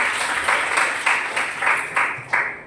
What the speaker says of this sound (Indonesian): Beri tepuk tangan untuk Sebastian